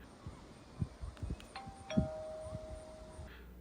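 A short electronic doorbell chime of two ringing tones from the doorbell button on a TP-Link Tapo DL110 smart door lock, close by, following a few soft thumps and clicks.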